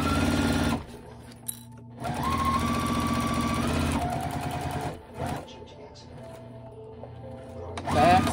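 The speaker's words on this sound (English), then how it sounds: "we're just going to sew down the both sides" A sewing machine stitches seams in canvas, running in rapid mechanical bursts with short pauses and backstitching between them, heard close up while a person talks quietly.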